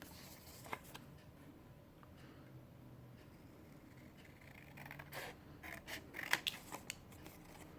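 Quiet snipping of scissors cutting paper, a few soft cuts early then a quicker run of crisp snips near the end.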